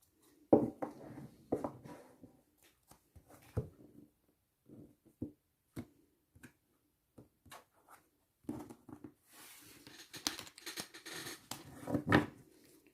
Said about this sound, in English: let's start by shuffling your cards